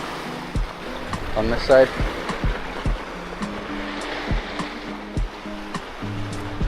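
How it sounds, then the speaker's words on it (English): Ocean waves surge and wash against rocks near a sea cave on a rocky coastline, a steady rushing roar with swelling bursts, heard under a man's close speech. "Sounds like the waves are picking up now"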